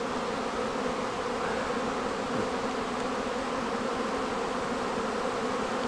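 Honey bees fly around a hive, a steady, even buzzing drone that holds without a break, fairly faint and with no voices.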